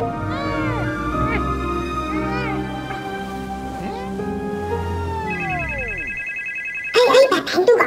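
A telephone rings with repeated warbling electronic tones over a busy, echoing television show soundtrack during a Masked Singer episode, followed by a steady buzzing ring and then lively voices talking.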